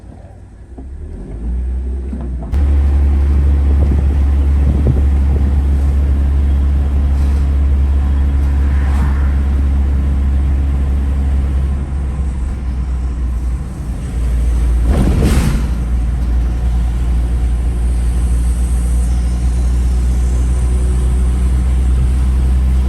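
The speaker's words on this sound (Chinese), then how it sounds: "车呢是汽油的小货车，爬坡的话就是有点吃力啊" A small gasoline pickup truck hauling a heavy chaff-cutter machine, engine starting up then humming steadily and loud from inside the cab, with occasional knocks and a brief surge midway.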